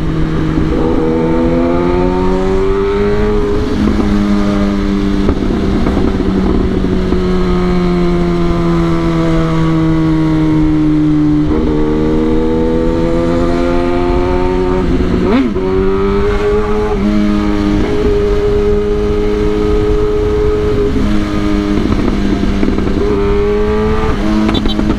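A Kawasaki ZX10R motorcycle engine revs loudly up close, with repeated throttle blips that rise and fall in pitch over a rough, continuous idle and one sharp pop partway through.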